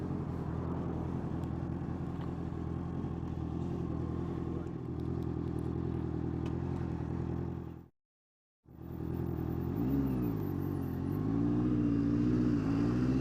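Honda CBR650F motorcycle riding on a road toward a village, a steady loud engine and wind drone with a brief dropout, then the engine note rising and falling again.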